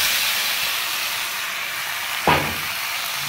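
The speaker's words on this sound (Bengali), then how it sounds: "এইবারে দিয়ে দেবো ম্যারিনেট করে রাখা আলু আর মাংসটা" Marinated potatoes and meat go into a hot pot for biryani: a steady frying hiss fills the clip, then a sudden loud sizzling burst as the food hits the oil, settling back into a constant hiss.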